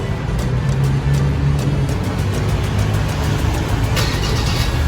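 A Ford Everest engine started by remote start idles with a steady low rumble, close and continuous, while a voice talks briefly over it.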